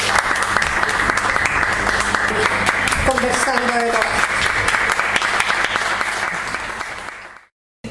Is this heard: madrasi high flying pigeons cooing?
no